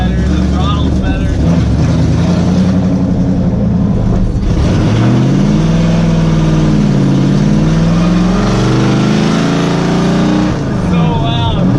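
A project car with its exhaust chopped off revs hard, the raw unmuffled engine blaring loudly and rising and falling in pitch through repeated throttle blips, with people talking in the cabin over the noise.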